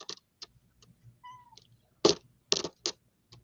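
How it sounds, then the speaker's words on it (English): A house cat meows close by in a quiet indoor room, giving a few short, separate calls, one of them a drawn-out tonal cry, with quiet background noise between them. "I have a cat up here"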